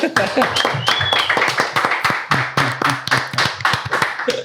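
Brief round of hand clapping for a guest on a Brazilian podcast, close and moderately loud with sharp irregular claps, mixed with voices talking over it.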